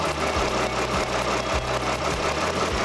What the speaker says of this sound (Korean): V6 엔진인 만큼 차량 엔진 소음 정말 조용하고 정숙한 차량이고요